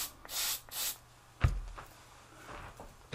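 Two short hissing bursts from a spray can of synthetic lubricant onto an air rifle bore whip, close and clear, followed by a thump and light handling noises.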